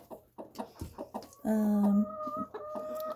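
Farm hens cluck in short, rapid bursts, then one lets out a drawn-out, louder squawking call, close by and with no talk over it.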